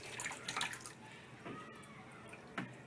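Vinegar bath solution is dumped out of a tipped cleaning tank, giving a soft steady trickle and splash of water with a few louder slops, fairly quiet and with no voices.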